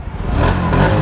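A 2024 Bajaj Pulsar NS 125 motorcycle running on E20 fuel, its engine freshly started after a few kicks, rumbles and revs up close in a short, loud burst.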